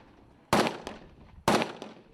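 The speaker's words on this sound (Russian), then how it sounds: "Автоматные очереди чередуются с одиночными выстрелами." Two sharp, loud reports about a second apart, each with a short echoing tail, from Kalashnikov rifles firing at an open-air military training range.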